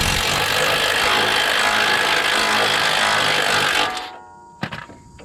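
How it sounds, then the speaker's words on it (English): A loud, close impact wrench rattles continuously for almost four seconds while it takes a nut off, then cuts out, followed by a sharp metallic knock and faint handling noise. "I'm going to hold that 19 mil wrench while I fire that off with an impact."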